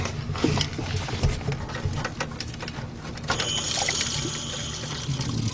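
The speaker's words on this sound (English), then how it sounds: "You see, there is water coming out of there." Rusty water drains out of a car radiator onto the ground in a steady splattering flow, loud and close, with brief knocks early on and a hissier stream later.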